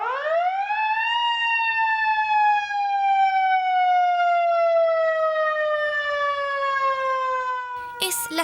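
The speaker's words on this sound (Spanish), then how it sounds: "Es la sirena del carro de bomberos de la 8ª Compañía de Antofagasta." Fire engine siren of the 8th fire company in Antofagasta wailing loud and close, one long rising then slowly falling tone that ends in a burst of noise.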